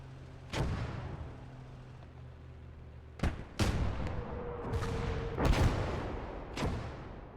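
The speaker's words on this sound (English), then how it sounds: "Sniper is firing but missing." Sniper rifle fire in the World War II strategy game Gates of Hell: Ostfront, with several sharp, loud cracks spaced irregularly among booming battle noise and a low rumbling background.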